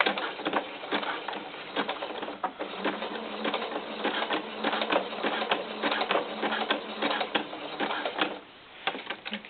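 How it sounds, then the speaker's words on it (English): A sewing machine runs steadily for several seconds, stitching a zigzag across elastic for doll underwear. The needle's rapid rhythmic clatter is close and continuous, with a slight slowdown near the end and no talking. "go ahead and sew right across that in a zigzag pattern"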